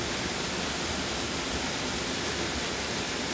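A waterfall roars as a continuous, dense broadband rush, steady and close, with no other sounds.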